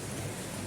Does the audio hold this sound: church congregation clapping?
no